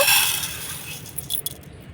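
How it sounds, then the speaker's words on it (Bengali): Uncooked rice grains pour into a bowl in a bright, dense rattling rush that thins out over two seconds, ending in a few scattered ticks. "এই চালটা আমি একটা বাটির মধ্যে ঢেলে নেব"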